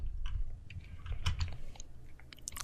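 Keys tap on a computer keyboard while a SQL command is entered, giving short irregular clicks in quick clusters with brief pauses between them, close and fairly quiet.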